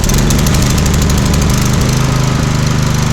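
A Honda GX160 generator engine runs steadily nearby, a loud, even low-pitched chugging with a fast regular pulse and no voices over it.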